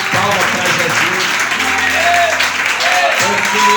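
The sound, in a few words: church congregation clapping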